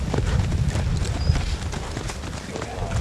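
Hooves of a light-framed Marchador horse clip-clop in a rapid, even gait, each footfall sharp and close, with someone talking faintly over the rhythm.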